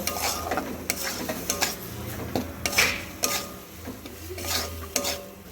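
Semolina upma is stirred in a pan: repeated scraping strokes and metallic clinks of a spoon against the pan over a soft sizzle, in an uneven rhythm.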